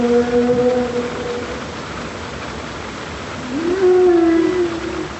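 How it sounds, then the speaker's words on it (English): Humpback whale song recorded underwater: a sustained tonal moan fades out, then after a pause a rising, swooping call returns over a constant rushing hiss of the sea. "And humpback whales."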